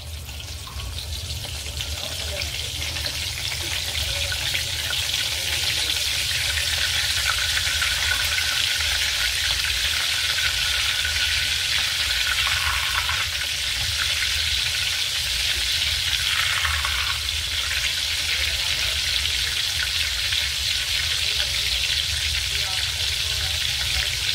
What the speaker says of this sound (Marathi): आता परत आपण याला फ्राय करणार आहोत.